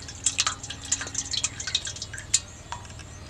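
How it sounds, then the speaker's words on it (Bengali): Dirty water being poured off homemade raw potato cornflour in a kitchen, with faint, close trickles and scattered drips splashing in a quick, uneven patter. "এই উপরে যে নোংরা জলটা আছে এটা আবার ফেলে দিতে হবে।"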